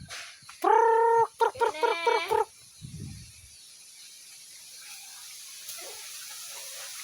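Chickens burst into loud, frantic clucking and cackling, frightened by firecrackers, with a muffled low thud right after. The birds then fall quiet and only faint outdoor background remains.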